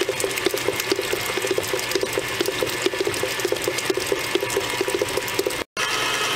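A mixer beats banana pudding brownie batter, a steady close motor whir with a fast rhythmic ticking pulse that runs without pause and cuts out briefly near the end.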